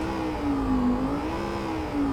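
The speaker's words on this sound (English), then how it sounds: "V8s kind of being that tinny of an engine sound" A Toyota Tundra with a modded V8 engine revs in neutral in American Truck Simulator, giving a steady, thin, tinny drone that rises and falls slightly in pitch and plays alone without speech.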